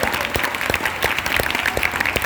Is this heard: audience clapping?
yes